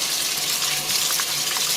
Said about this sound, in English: Rinse your menudo, your honeycomb tripe.